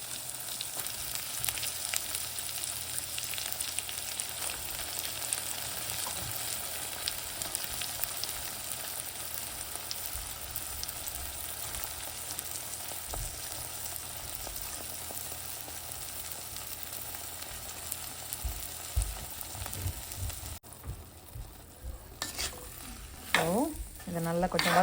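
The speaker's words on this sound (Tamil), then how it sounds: "வெங்காயம் நல்லா கொஞ்சம் வதங்கின அப்புறம் நறுக்கி வச்சிருக்கிற வாழைத்தண்டு போட்டுடலாம்." Banana stem and onion sautéing in a pan, a soft continuous sizzle with repeated scraping and stirring of the spoon against the pan, growing busier and clattering toward the end.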